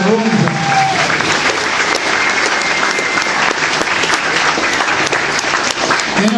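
A room full of guests at a First Nations potlatch gathering gives sustained applause for the staff, a dense, even wash of clapping with scattered sharp claps, lasting the whole stretch and barely easing.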